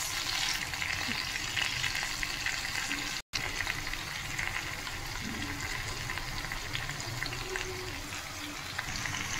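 Noodles stir-fry in a pan with soy sauce, tomato ketchup and red and green chilli sauces, making a constant dense sizzle and stirring rasp that cuts out for a moment before resuming.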